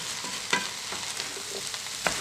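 Samosa filling of vegetables, stock cubes and curry powder stirred in a hot pan, with a soft steady sizzle and a few sharp scraping knocks of the spoon against the pan, close and alone.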